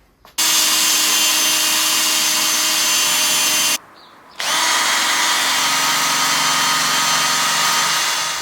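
A powered wire brush cleans car bonnet parts for an FN2 Type R, a loud continuous whine of a drill-driven brush that stops briefly midway and then resumes.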